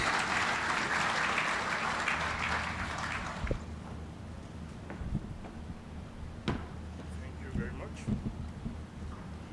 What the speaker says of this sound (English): Can we welcome him with a round of applause?